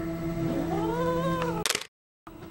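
A cat meows in a long, rising and falling call up close, followed by a brief sharp burst of noise and a short silence.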